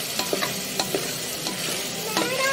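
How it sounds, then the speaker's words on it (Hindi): Garam masala sizzles in a hot pan with ginger and garlic while a spatula scrapes and stirs it in quick, repeated strokes, close and steady. "ये देखिए अभी मैं गरम मसाला डाल रही हूँ, इतनी भूनने का है गरम मसाला भी"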